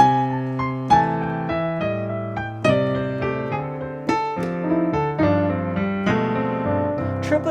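Solo piano playing quick rolling triplet figures, clear and close, with repeated three-note groupings moving across the keyboard.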